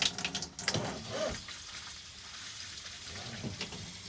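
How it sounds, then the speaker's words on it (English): Water running from the tap of a Winnebago Micro Minnie FLX RV after the water pump is switched on, with the pump set to low pressure; a close, steady splashing stream into a sink with a few louder bursts near the start. "turning on the water pump. It's a low pressure right now because I had it set low"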